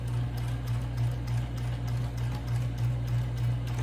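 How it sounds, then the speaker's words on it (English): A sewing machine back stitching fabric for a hobo bag runs steadily at close range, a continuous rapid needle chatter with a low motor hum, no talking. "Now I'm going to start where I remove the needle,"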